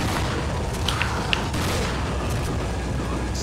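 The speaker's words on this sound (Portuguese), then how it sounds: "Ah, Gabriel, você tá usando escopeta cedo demais." Gunfire from a shotgun in the video game Resident Evil 4, a dense, booming blast texture with a few sharp cracks standing out, loud and continuous with no talk over it.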